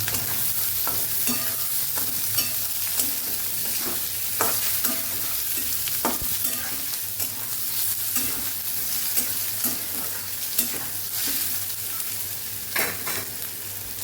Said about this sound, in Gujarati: ડુંગળી ઉમેરી દેશું એને આપણે સાતડી દઈશું